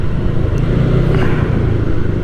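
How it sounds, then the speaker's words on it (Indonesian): Saturday traffic jam in Bandung, with cars and motorcycles idling and creeping along; a steady, loud, low engine rumble with no clear breaks. "Ini lumayan macet Bandung di hari Sabtu."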